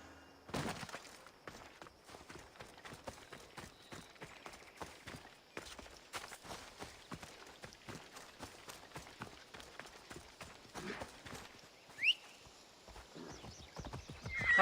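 A horse's hooves clip-clop steadily in Assassin's Creed Odyssey, a rapid, even trot of close hoofbeats, with a brief whinny and a few sharper thuds near the end.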